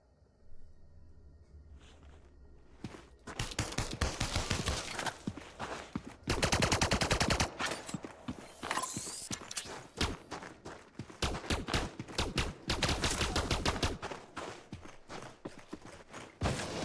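Rapid bursts of automatic gunfire crack through a spacecraft-era 3D game firefight, with bullets whipping past at close range; loud clustered volleys start after a quiet opening and repeat in dense, irregular bursts to the end.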